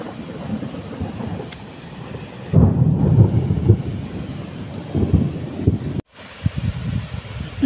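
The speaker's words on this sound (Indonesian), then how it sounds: "Hujan Mas Bro." Rain with rumbling thunder at a village river during a fishing outing, a low, steady wash of noise that surges louder partway through, with a brief dropout near the end.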